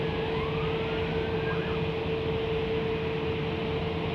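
Qatar Airways Airbus A380 rejecting its takeoff at London Heathrow, a steady distant roar of jet engines with a faint whistling tone, heard from afar and continuous with no voices.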